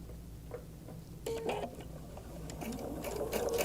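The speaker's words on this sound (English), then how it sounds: "I'm sewing 3/8 inch seam allowance." A sewing machine stitches a 3/8 inch seam on a shirred top, its quiet rapid ticking needle running in short bursts up close against a low motor hum.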